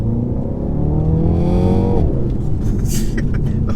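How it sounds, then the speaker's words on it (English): A 2020 BMW X2 M35i accelerates hard, its engine note climbing steadily and then dropping sharply at a gear change before pulling again, loud and close from inside the cabin. "The whole car literally leaps forwards when it changes gear."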